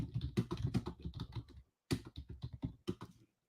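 Rapid keystrokes on a computer keyboard come in close, crisp clusters, with a short pause midway before the clattering typing resumes, quiet and with no talking.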